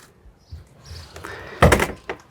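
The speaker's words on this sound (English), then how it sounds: "if we come back to the back to the main door, just going to open that." The main door of a 2012 Regal Elegance motorhome opens with a faint latch click and creak, then a solid thunk of the door swinging, followed by a lighter knock.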